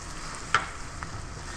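Flour going into butter and softened onions in a pan for a roux, giving a faint, steady sizzle with one sharp scrape or tap and a softer one afterward, close and without talk.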